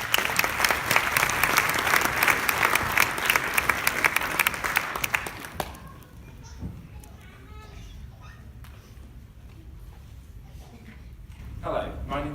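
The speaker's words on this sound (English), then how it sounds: "Let's give him a big round of applause." An audience claps loudly for a volunteer called up on stage, a dense burst of applause lasting about five seconds before cutting off. Quieter murmurs and voices follow.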